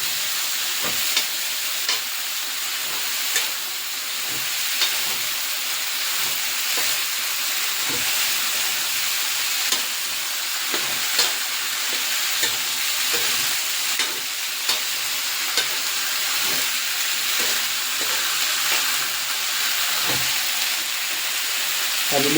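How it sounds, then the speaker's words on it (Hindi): Steady sizzling of mushrooms and French beans frying in a pan, with repeated soft scraping and tapping as they're stirred throughout. "अब इसको मैं मिक्स कर देता हूँ।"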